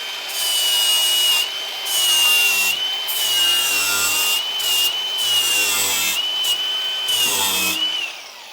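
An aluminum oxide flap disc on an angle grinder sands metal panels on a mini jet boat build, a loud, close, continuous abrasive whine rising and dipping as pressure changes, no talking.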